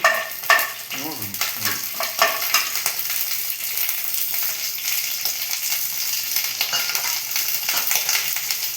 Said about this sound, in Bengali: কালো সর্ষে হ্যাঁ সর্ষে তারপরে দেবো শুকনো লঙ্কা ফুটবে সাবধান